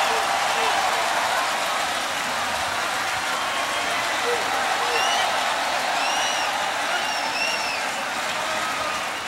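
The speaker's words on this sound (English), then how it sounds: "Listen to the crowd reaction." A boxing arena crowd reacts after a prize fight, a continuous loud roar of cheering and applause filling the hall, with faint whistles rising above the din throughout.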